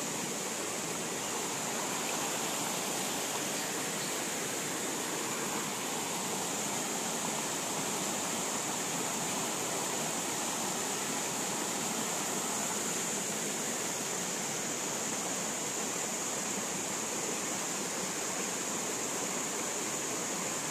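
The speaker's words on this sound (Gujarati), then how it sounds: "તેની પાછળ જ સામે આ ઝરણા, ને ઝરણા પછી સરસ મજાનો વોટરફોલ છે" Steady rushing roar of a forest stream and waterfall in Barot Valley, a dense, constant wash of falling water close by with no pauses.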